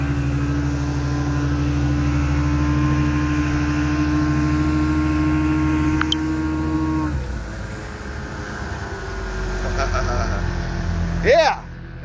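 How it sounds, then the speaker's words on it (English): A 1965 Mercury 500 Super Thunderbolt 50hp outboard motor runs steadily and loudly, then cuts off abruptly partway through, leaving quieter water and ambient noise with brief squeaks near the end. "That's how a 53-year-old motor should run."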